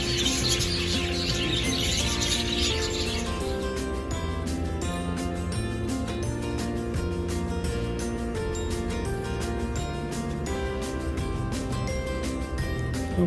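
Many birds chirp and call together at a Saudi Arabian zoo in Al-Ahsa at evening time, where parrots, pigeons and peacocks are kept; a dense, continuous chorus of overlapping tweets fills the whole stretch with no talking.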